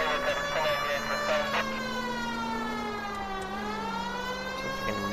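A wailing emergency siren in the L.A. Noire video game, likened to a nuclear air-raid siren, rises and falls with a stacked, droning tone that fills the whole clip, with a voice speaking underneath.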